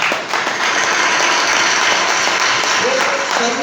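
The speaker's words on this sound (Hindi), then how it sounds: "एक बार जोरदार ताली हो जाए" A large audience breaks into loud, continuous applause, a thick roar of clapping that holds steady throughout, with a voice faintly audible near the end.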